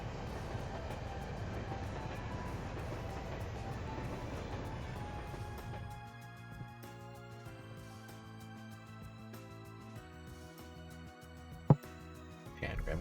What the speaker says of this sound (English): It's fun to actually see the trains moving.